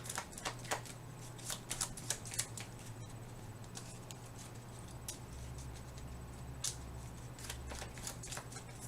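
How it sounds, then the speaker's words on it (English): Cards from a board game's draw deck being shuffled by hand, a fast run of soft riffling and tapping bursts over a low steady hum, fairly faint and close, with no talking. "I need to shuffle my draw deck."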